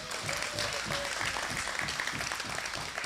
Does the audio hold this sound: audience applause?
yes